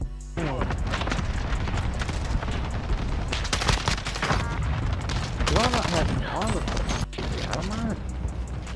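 Gunfire from Call of Duty: Warzone comes in bursts and repeated shots with booms and a few distant reports. Players talk excitedly over the whole stretch of shooting.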